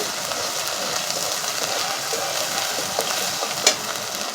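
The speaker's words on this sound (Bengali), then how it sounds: "কাশ্মীরি লঙ্কাগুলো দিয়ে এবার আমি ভালো করে কষিয়ে নেব।" Spices with turmeric and Kashmiri chili powder are sautéed in a pan, producing a steady, loud sizzle and hiss with light stirring scrapes and a brief sharp clink near the end. No one speaks.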